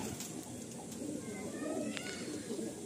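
A male pigeon held in the hand coos softly, a low, faint murmur against a quiet background with a few small chirps near the end.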